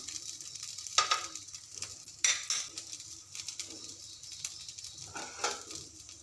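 Breakfast batter frying in oil in a home pan gives off a steady sizzle, broken by a few sharp scraping and stirring clatters of a utensil against the pan, close and moderately loud, with no talking.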